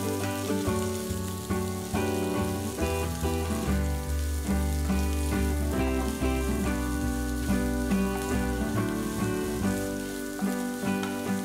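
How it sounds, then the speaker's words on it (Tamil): Thinly sliced large onion frying in a little oil in a pan, a steady dense sizzle running continuously throughout with no talk. "ஒரு பேனில் கொஞ்சமாக எண்ணெயை ஊற்றி ஒரு பெரிய வெங்காயம் மெலிசாக நறுக்கினது இதில் போட்டு பொன்னிறம் ஆற வரைக்கும் நல்லா வதக்கணும்"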